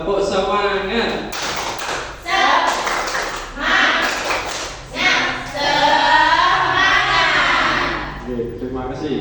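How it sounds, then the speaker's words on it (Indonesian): A room of teachers performs a rhythmic spirit clap, patterned bursts of group clapping mixed with chanted voices, loud and close, in short repeated phrases. "Tepuk semangat."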